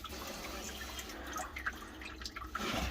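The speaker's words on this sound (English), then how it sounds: "I can hear it pouring out of the block" Water drains out of the engine block of a 1999 Bayliner Capri 1950 with a 3.0L engine during winterizing, making a faint continuous trickle and drip close by.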